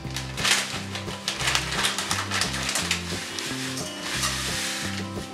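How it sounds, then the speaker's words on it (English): Gluten-free breadcrumbs toast in olive oil in a pan over medium-high heat, giving a steady, close sizzle broken by repeated stirring scrapes, with no talking. "we're going to toast some gluten-free breadcrumbs"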